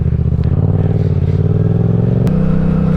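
A motorbike pulls away in low gear, its engine rumbling loud and close with a pulsing throb that steps up in pitch as it accelerates, with a rattling edge.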